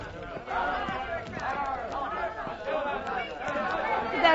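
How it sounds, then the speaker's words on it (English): An angry mob in an ancient city crowds around a woman, taunting and jeering; a continuous babble of many overlapping voices, loud and close, with shouts rising over the general din. "What is that mob? Why do they taunt the woman?"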